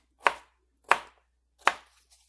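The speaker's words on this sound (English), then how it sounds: "cut just a little bit bigger, not so small. Because I do want more of the bigger piece of the cucumbers." Cucumbers chopped with a knife on a cutting board: three crisp, evenly spaced chops, close and clear against near silence.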